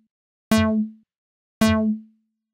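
Two identical synth plucks through a resonant low-pass filter swept by an envelope, each a bright harmonic tone that snaps open and quickly closes down to a dull resonant hum, separated by a short silence.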